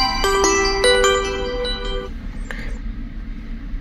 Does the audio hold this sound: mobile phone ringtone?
yes